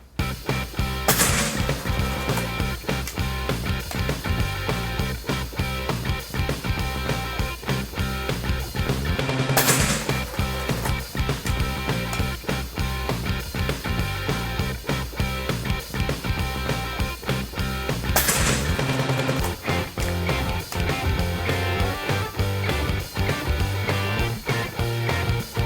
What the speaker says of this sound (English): there's 5 shots that basically punched out the center bowl of that target